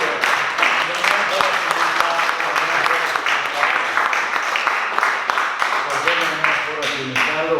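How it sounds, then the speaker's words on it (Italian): A live audience at a panel debate on Europe applauds the guests, a sustained, even wash of many hands clapping for several seconds while the host speaks over it. "l'applauso ai 4 nostri ospiti."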